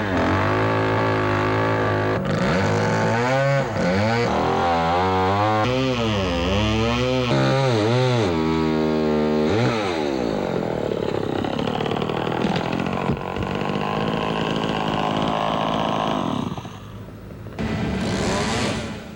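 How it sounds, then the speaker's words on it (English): Chainsaws run by city forestry crews cutting storm-damaged trees, a close, loud engine whining and rising and falling in pitch as it revs and bogs through wood, continuous throughout. "an occasional chainsaw can still be heard as city forestry crews cut down trees damaged by the winds"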